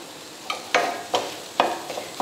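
Eggs cook in a pan on high flame while a spatula turns them, giving a few sharp scraping strokes at a brisk, uneven pace over a faint sizzle.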